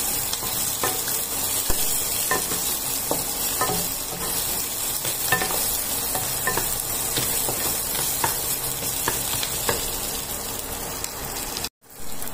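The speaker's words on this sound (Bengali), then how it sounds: "এইবার এগুলোকে আমি খুব সুন্দর করে ভেজে নিচ্ছি।" Cauliflower with roasted peanuts fries and is stirred in a pan, a steady close sizzle punctuated by regular scraping and clacking of the spoon, continuing nearly throughout before a brief gap near the end.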